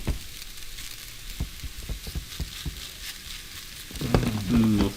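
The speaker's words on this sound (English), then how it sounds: "Listen to that sizzle." Food sizzling in a frying pan, a close steady crackle and hiss with occasional louder pops and stirring sounds, heard alone without talk.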